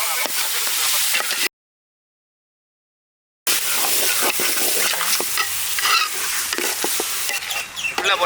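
Dindigul biryani masala with cinnamon and clove powder fries in a large pot, sizzling loudly as it is stirred with scraping strokes. The sound cuts to silence for about two seconds, then the frying and stirring resume.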